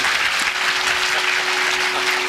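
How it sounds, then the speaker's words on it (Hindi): A crowd at a Ram Katha religious gathering in Sonvarsa, Gonda claps vigorously in a continuous, dense burst of applause, with a faint steady hum beneath. "अगर आप लोग मेरी बात से सहमत है तो जोरदार तालियां बजा दें।"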